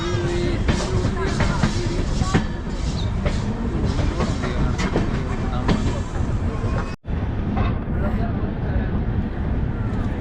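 A train rumbles steadily with clattering wheels and rail noise for about ten seconds at Dhuri railway junction, loud and close, with a brief cut near the end.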